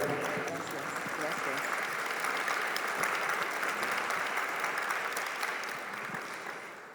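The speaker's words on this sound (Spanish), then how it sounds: "Un aplauso para ella." An audience at an education conference applauds a speaker being welcomed to the lectern, a sustained, even wash of clapping in a hall with faint voices mixed in.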